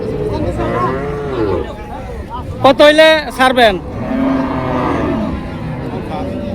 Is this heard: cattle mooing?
yes